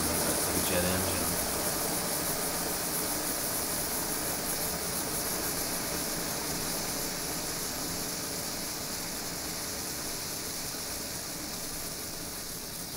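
A homemade alcohol stove with a pot stand burns with a steady, jet-like roar of broadband hiss that holds close and even for the whole stretch and fades only slightly toward the end.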